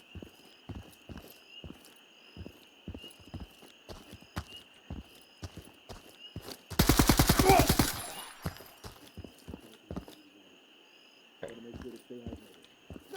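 An AK-74M fires one loud, rapid burst of roughly a second in a video game quarry run, set among soft footsteps and a steady ambient tone.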